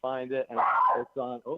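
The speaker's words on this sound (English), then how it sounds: "and that was my dog" A dog barks once, loud and close, between bits of a man's speech.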